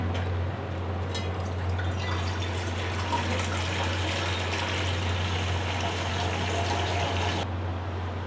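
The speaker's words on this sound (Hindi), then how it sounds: "तो हम एक स्टीमर लेते हैं, स्टीमर में पानी डालते हैं।" Water pours steadily into a steamer in a home kitchen while preparing chicken steam roast, a continuous close splashing gush that stops abruptly near the end.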